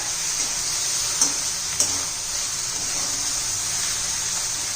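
Okra (bhindi) sautéing in oil in a pan over medium heat for bhindi masala, a steady close sizzle and hiss with a couple of faint stirring clicks, with no talking.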